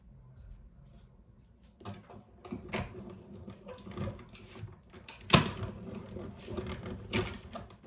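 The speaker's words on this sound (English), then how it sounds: "we're going to run that through our cut and emboss machine" A cut and emboss machine feeds a card through, giving irregular mechanical clicks, rattles and cranking with one sharp snap near the end, fairly quiet and close.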